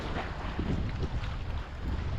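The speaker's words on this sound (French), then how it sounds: "Il y a du vent, ça fait du bien, ça chasse les moustiques et les mouches." Gusty wind buffets the microphone in a steady low roar on a lake island in Algonquin Park, Ontario, rising and falling slightly, with faint water sounds beneath.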